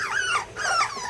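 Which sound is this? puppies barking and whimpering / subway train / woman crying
puppies barking and whimpering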